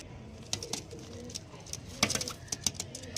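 Pigeons of the Andra fancy breed, kalshira and fulshira types among them, coo in a loft, with soft repeated low calls spread through the clip and a few louder bursts near the middle and end.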